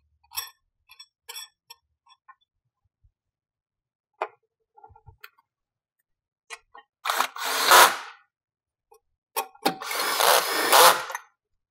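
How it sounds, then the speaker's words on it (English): A cordless drill drives a bolt into a Tesla Model S 12V battery bracket in a few short whirring bursts, the last two longer, separated by quiet clicks and small handling noises. "When you're using a cordless drill like this, make sure you set the torque setting somewhere in the middle to the lower end."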